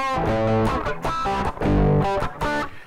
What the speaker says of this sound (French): si m'bypass pédale ça, si me joue distorsion ça